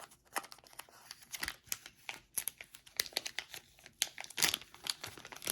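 A 2006 Upper Deck baseball card fat pack wrapper is torn open, giving close, quick bursts of crinkling and crackling foil-like plastic in an irregular run.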